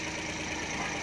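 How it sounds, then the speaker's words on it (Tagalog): A car engine idles steadily after an ignition coil replacement, a constant mid-pitched hum with a faint rhythmic knock, heard alone at close range. "So okay na yung andar na makina natin."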